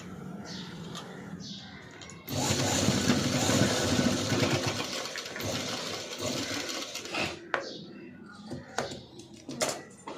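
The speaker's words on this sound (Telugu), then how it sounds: "చూపిస్తున్న విధంగా ఇలా కప్స్ అయితే స్టిచ్ చేసుకోవాలి." A sewing machine stitches padded blouse cups in one steady, loud whirring run of a few seconds, then slows into shorter bursts amid handling noises.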